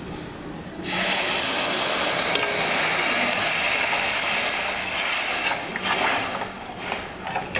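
Loud, steady hiss of water added to a hot pan of sautéed ingredients for sambar, rising abruptly and holding, with a few brief surges near the end.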